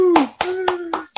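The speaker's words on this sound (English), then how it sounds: "Big round of applause to you guys." Hands clap in short bursts for league winners in a small group, four or five sharp close claps with a tone humming faintly under the first ones.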